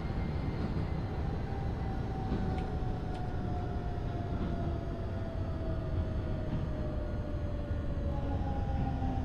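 Metro train in the Hmmsim Metro video game rolling in and slowing to a stop, a steady low rumble with a faint descending tone across the whole stretch.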